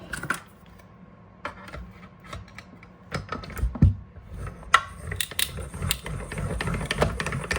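Hand-cranked card die-cutting machine feeding taped cardstock through for a greeting card: intermittent ratcheting clicks and gear noise, fairly faint and close, building to a steadier grinding toward the end.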